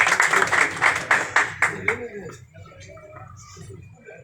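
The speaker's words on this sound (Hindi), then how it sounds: "आपकी भरपूर तालियों में जी।" Applause for a tournament prize winner: a burst of brisk clapping from a gathered crowd that fades out after about two seconds, leaving murmuring voices and an announcer-style voice in the background.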